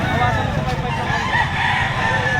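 A rooster crowing at a Saturday chicken market behind SM City Lipa, Batangas, a loud, close, drawn-out crow over a background of other fowl and murmuring people.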